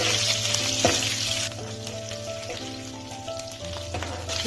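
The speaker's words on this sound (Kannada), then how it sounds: "ಇದಕ್ಕೆ ಹಸಿಮೆಣಸಿನ್ಕಾಯಿ ಸ್ವಲ್ಪ ಫ್ರೈ ಮಾಡ್ಕೊಳ್ಳೋಣ." Green chillies and crushed garlic fry in hot oil in a pan, giving a loud, steady sizzle. A clatter and stirring scrapes break in at a few points as the crackle rises and falls.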